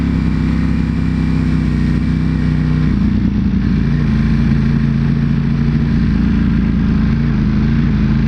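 A 2021 Ducati Panigale V4S being ridden on the Autobahn gives a loud, steady engine drone with a brief shift in pitch partway through, constant and close throughout.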